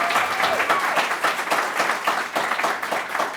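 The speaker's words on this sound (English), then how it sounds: "Let's give a round of applause to our Borough President" Dense, steady applause from an audience at an East Harlem civic announcement with the Borough President, filling the whole stretch with close, continuous clapping.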